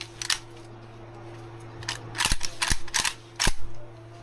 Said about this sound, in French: t'avais un peu peur quand même de tirer comme ça avec pas de balles